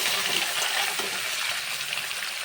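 Spices and ginger paste sautéing with vegetables in a pan, a dense continuous sizzle and frying crackle with faint stirring, close and steady throughout.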